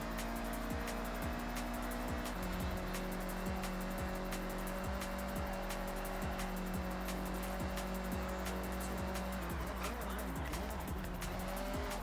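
A car engine roars steadily in the Forza Horizon racing game, with rising and shifting revs, tire squeal and skidding throughout, and a strong whooshing surge of nitrous boost late on, loud and continuous.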